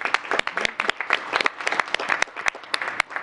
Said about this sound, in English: Let's do a round of applause for Amanda and her team.